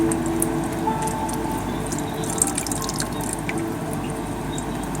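A cat drinking water, heard as soft steady dripping and lapping over a faint watery background. The sound is close and quiet, with no speech.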